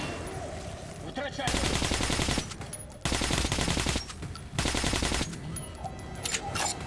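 Sustained automatic gunfire in Metro Last Light Redux, several long, loud bursts separated by short gaps, with quieter stretches between the volleys.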